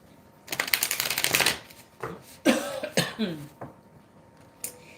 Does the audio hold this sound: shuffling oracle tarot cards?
yes